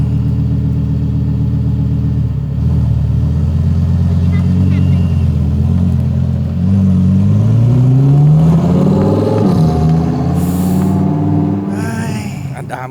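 A car accelerating as it is driven, its engine note climbing steadily in pitch while voices talk and exclaim over it.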